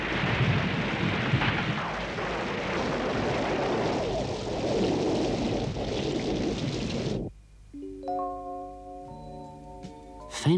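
Heavy, steady rain pours down with a broad roar for about seven seconds, then abruptly gives way to quiet sustained tones.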